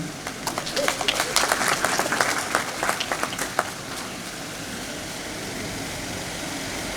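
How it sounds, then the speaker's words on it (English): An audience at a lecture gives a scattered round of clapping that is moderately loud for a few seconds and then dies away into a low background hum. "Did I hear a clap somewhere?"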